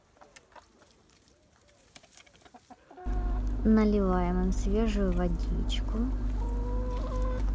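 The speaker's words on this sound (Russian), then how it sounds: "Курочки кушают и гуляют." Laying hens cluck and chatter close by on a farm, their calls rising over a steady low mechanical hum that starts partway through, while a person speaks briefly at the start.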